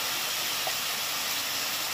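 Potato and papaya pieces frying in a pan of hot oil give a steady, dense, close sizzling hiss that stays even throughout.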